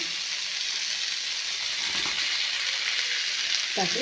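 Smashed potatoes frying in a hot pan give a steady, close sizzling hiss that holds evenly throughout, with a faint stirring clatter near the end.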